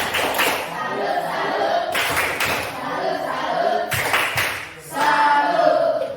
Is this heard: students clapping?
yes